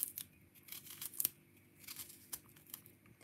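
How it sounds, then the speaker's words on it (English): Garlic being cut up with a knife at close range, giving a run of short, irregular dry cuts and crisp crinkling snips with a few sharper strokes, quiet and without talk. "We're gonna cut up the garlic."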